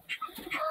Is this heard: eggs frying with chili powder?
no